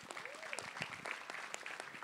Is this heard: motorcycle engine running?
no